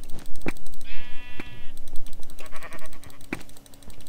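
Minecraft sheep bleat in a game, a wavering harmonic cry near the start followed by a second shorter bleat, with sharp click-like game sounds scattered throughout and no talk.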